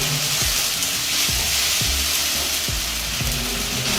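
Masala cooks with tomato puree in a hot pan as a spatula scrapes through it in a run of distinct, rhythmic strokes over a continuous dense sizzle, close and fairly loud, with no voices.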